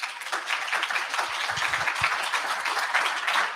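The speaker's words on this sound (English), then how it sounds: "Clap." Audience applause at a summit talk, a dense continuous wash of many hands clapping at steady loudness throughout, with no speech over it.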